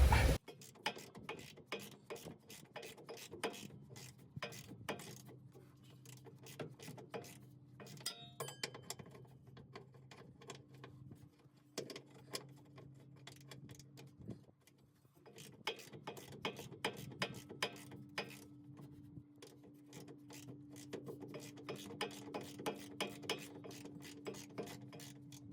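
A socket ratchet clicks in bursts while breaking loose the 18 mm upper shock absorber bolt on a rear-wheel-drive Ford Ranger, rapid close pawl ticks with brief pauses and no voices.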